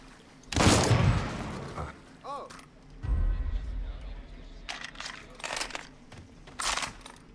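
Gunfire in the video game Mafia 3: several sharp bursts of shots and booms at uneven intervals, with a short mechanical rattle in between, heard fairly faint.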